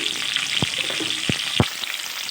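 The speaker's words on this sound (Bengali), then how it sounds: "বয়েল ছাড়াই ভেজে নেব" Raw, unboiled pieces of young jackfruit fry in a pan with salt, giving a steady hissing sizzle with three sharp clinks from stirring, and no talk.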